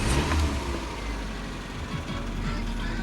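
A car-sharing car's engine starts and revs up nearby, a steady mid-pitched rumble that rises and holds for a few seconds.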